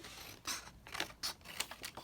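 Scissors snipping paper for a holiday craft project, a quick run of about six crisp close cuts in a steady rhythm, quiet and alone.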